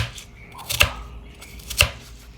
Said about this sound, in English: This fruit easy to chop